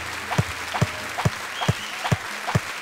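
Applause from the video game Battleblock Theater: six short, evenly spaced bursts of clapping, each a crisp, mid-level group clap rising out of quiet game background, with no talking.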